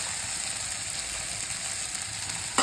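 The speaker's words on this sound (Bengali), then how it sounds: "টমেটোটা ভেজে নেওয়ার পর জিরে বাটা দিচ্ছি।" Cumin paste hits fried tomatoes in a hot pan, giving a steady, close sizzle with a faint scrape near the end.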